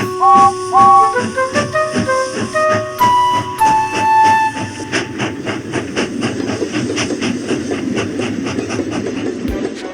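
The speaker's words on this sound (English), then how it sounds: "It was nice puffing through the countryside." A steam train chuffs along the rails, whistle tones sounding early before a steady rhythmic puffing takes over, loud and close.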